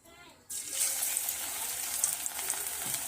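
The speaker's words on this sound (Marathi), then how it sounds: "आता आपलं तेल गरम झालं आहे आता ह्या तेलात आपल्याला भजी सोडायचं आहे" Onion bhaji batter dropped into hot oil, bursting into a loud, dense bubbling fry after a brief quiet start, then crackling steadily close by.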